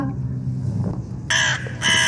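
A crow caws loudly in two harsh, close bursts near the end, following a stretch of low background sound.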